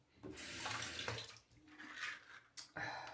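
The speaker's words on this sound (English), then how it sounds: "Let me rinse this off really quick." Water runs from a tap as a Karve OC-D plate razor is rinsed after a shave, a loud steady gush that breaks off briefly and starts again.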